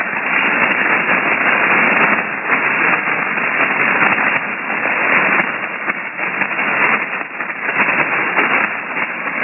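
Weak amateur radio signal buried in steady, loud hiss-like static on a ham transceiver, band-limited like a receiver audio output, continuous throughout with no clear voice emerging above the noise.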